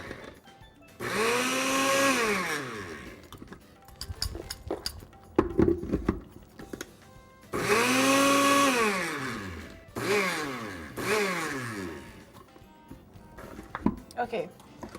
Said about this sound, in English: And then pop this on the blender. Okay, we're going to pulse here.